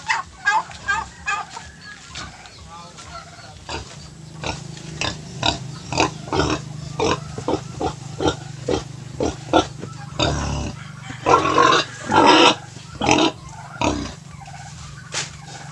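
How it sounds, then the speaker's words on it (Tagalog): Sows grunting and munching noisily at close range on a farm, with repeated chomping bursts and occasional chickens clucking in the background. "Malakas po kumain yung ating inahin ka-farmers ng Madrid de Agua po"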